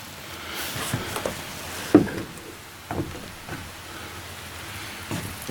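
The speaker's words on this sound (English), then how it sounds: "It's raining this morning" Rain falls steadily in a valley in the morning as a soft, even patter, broken by a few louder drops and knocks close by, with no talk.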